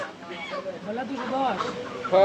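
Chickens cluck and squawk nearby at a busy chicken shop, a steady jumble of overlapping calls over background chatter and crowd noise.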